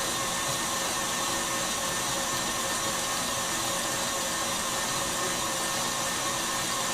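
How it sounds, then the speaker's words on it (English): Electric mixer motor whipping a lemon drizzle cheesecake mixture runs as a steady, continuous whirring drone throughout, close and fairly loud, with no voices over it. "I can hear the machine changing noise."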